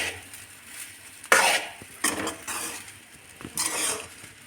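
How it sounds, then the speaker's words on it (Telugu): Egg fried rice being stirred and tossed in a pan, with a few distinct scraping, clattering bursts of spatula against metal over a low background, no voices. "కింది మీద మీది కిందికి మిక్స్ చేసుకోవాలి"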